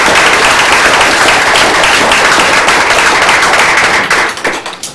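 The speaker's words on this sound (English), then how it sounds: "can we give him, as an honor of his bowling teammates," Audience at a school district board meeting gives a round of applause honoring a bowling team member; loud, dense, sustained clapping that thins out and tapers near the end.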